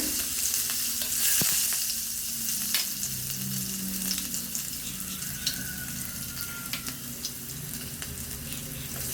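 Green chilli and mustard seeds sizzling in hot oil in a pan, a loud continuous hiss with scattered pops and crackles, close up and without voices.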